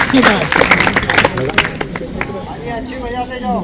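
A burst of group clapping rises under loud talking at an education session in Mohi Forest, Pandurna, India, then fades as a voice carries on alone.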